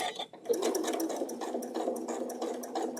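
A sewing machine stitches fabric for a quilt block, a steady close mechanical whir with rapid needle clatter running continuously throughout, with no talking.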